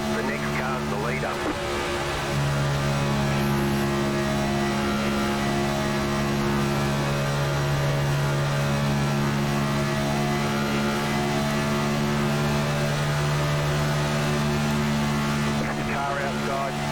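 A race car on an oval track, the engine holding a loud, steady droning tone close by for the whole stretch, with the pitch rising slightly as it settles in and a brief change in the whine near the end.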